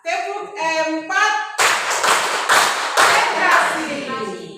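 Children in a classroom clap in rhythmic counted bursts between a teacher's spoken cues; sharp, close group claps come in several short sets after an opening stretch of talking.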